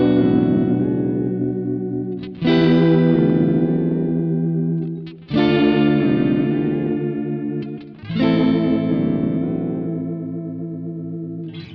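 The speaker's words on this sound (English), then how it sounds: "you could use this drift back mode for some whammy bar effects" A Cusack Tap-a-Delay pedal runs in drift back mode, giving a whammy-bar-like effect. Three long, thick guitar chords each swoop in pitch and wash with modulated echo, sounding loud and close without speech.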